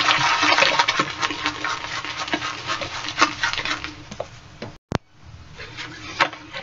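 A shaving brush is worked vigorously in a cup with a splash of hot water to build lather, making a close, continuous wet swishing and scrubbing with one brief break near the end.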